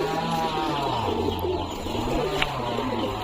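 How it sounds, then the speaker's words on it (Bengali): A very young pigeon, only a week or two old, handled at a loft, giving soft repeated low cooing notes up close against faint background bird chatter. "এটা বাচ্চা পায়রা, একদম ছোট 1-2 পরের পায়রা।"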